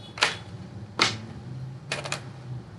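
A few separated bursts of computer keyboard typing nearby: two single sharp key presses, then a quick cluster of clicks, with quiet room noise between them.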